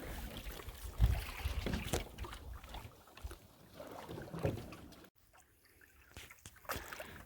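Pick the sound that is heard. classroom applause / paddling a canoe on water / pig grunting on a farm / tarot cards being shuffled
paddling a canoe on water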